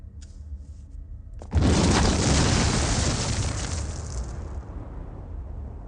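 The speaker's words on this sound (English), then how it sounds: "The C4 in this device will detonate in 5 seconds." A C4 charge detonates in the Command & Conquer Tiberian Sun video game, a sudden loud blast after a faint tone, followed by a long rumbling roar that slowly fades.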